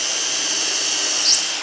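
A drill guided by a 3 mm drill guide bores holes in the wooden top of an MFT workbench, giving a loud, steady motor whine up close that ends with a brief clunk.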